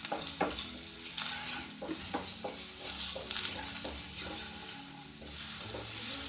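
Chopped garlic fries in a pan for Punjabi sarson ka saag while a spoon stirs it. Gentle sizzling carries throughout, punctuated by repeated scrapes and taps against the pan, quiet and close.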